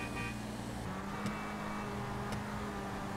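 A Mehran car fitted with a top gear races in GTA 5, its engine whining steadily up close, dropping in pitch once as it shifts, then climbing again.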